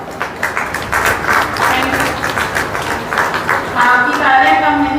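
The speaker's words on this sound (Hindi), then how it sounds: "आपकी तालियां कम नहीं होनी चाहिए" Audience at a summer camp closing ceremony applauds the children, a continuous moderate-level patter of many hands under a speaking voice.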